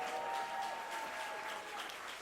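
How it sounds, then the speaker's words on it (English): An audience at a matinee Latin dance show applauds, a steady wash of clapping that is soft and somewhat distant throughout. "that deserves a clap, yes."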